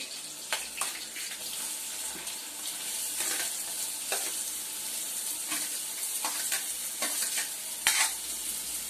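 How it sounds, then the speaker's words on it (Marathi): Two medium onions frying with garlic in a pan until browned, a continuous moderate sizzle with recurring scrapes and taps of a spatula stirring throughout. "कांदा चांगला लाल करून घेऊया."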